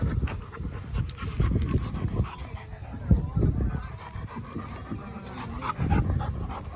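A dog pants heavily and steadily close by, with rhythmic breathy huffs over a low rumbling background.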